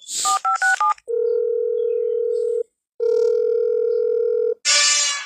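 A telephone dials a quick string of touch-tone beeps, followed by two long steady ring-back tones separated by a short gap, then a brief burst of noise at the end.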